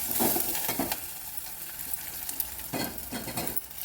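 Curry leaves crackling in hot oil with ginger paste, a close, busy sizzle with a few stirring scrapes early and again near the end, no talking.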